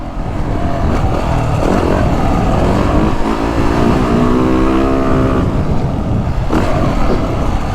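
A 2023 Yamaha YZ450F motocross bike revs loud and close, its engine note rising and falling as it accelerates and shifts, with a steady roar throughout.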